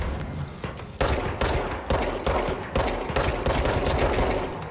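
Rapid automatic gunfire from shooting in the video game Control, dense bursts of shots broken by brief gaps, loud and close throughout with no voices.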